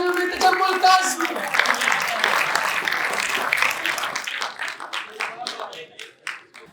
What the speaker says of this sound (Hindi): आप सबकी भरपूर तालियों में तजम्मुल काज़मी।